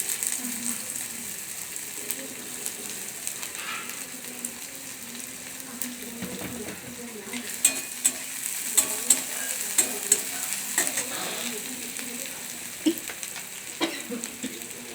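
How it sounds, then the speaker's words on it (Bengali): Chopped garlic and onion fry in a pan, a continuous close sizzle with scattered scraping and stirring clicks that grow busier midway. "রসুনটা একটু হালকা ভাজার গন্ধ হলে দিয়ে দেবো ছোট্ট একটা পেঁয়াজ নিয়েছি পেঁয়াজটা কুচি"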